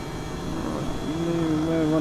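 Simulated Airbus H135 helicopter in Microsoft Flight Simulator 2020 gives a steady engine and rotor drone that rises toward the end, with tonal whine lines appearing midway; continuous and close, with no speech over it.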